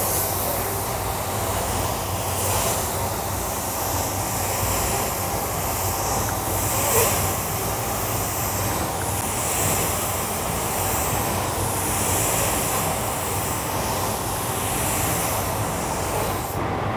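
Spray gun applying silver paint at low pressure, about 1–2 bar: a continuous steady airy hiss with faint pulsing, unbroken and fairly close, without speech.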